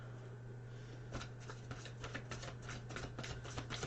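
Someone shuffles a deck of angel cards close by, a run of soft riffling bursts over a steady low hum and room noise, with no talking.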